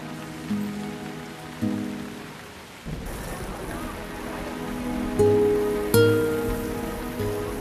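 Steady rain patters outdoors in a Pakistani drama scene, a moderate constant wash beneath some low tonal music and a few faint bumps, with no clear talk.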